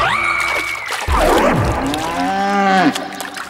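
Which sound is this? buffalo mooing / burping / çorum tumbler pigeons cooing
buffalo mooing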